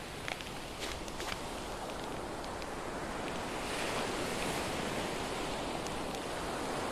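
Ocean waves and surf wash steadily ashore, a broad continuous roar that swells louder midway, with wind buffeting the microphone and a few faint clicks early on.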